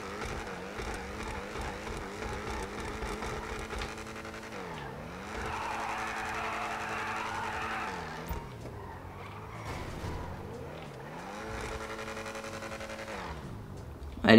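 A 2020 Audi R8 engine in GTA 5 drones and revs through gear changes, with tires squealing in skids midway and a loud burst at the end, heard alone without talk.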